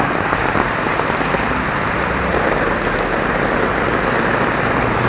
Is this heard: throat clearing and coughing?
no